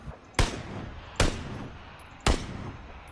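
Three sharp, separate gunshots ring out in a video game, each a sudden loud crack spaced about a second apart over a low background hum.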